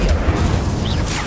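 The Incendio fire spell cast in the video game Hogwarts Legacy, a loud, close, roaring burst of flame with a deep rumbling body and hissing, whooshing texture that holds steady through the whole moment.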